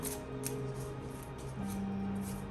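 Soft, brisk riffling and sliding of playing cards being shuffled close by, over a faint steady hum.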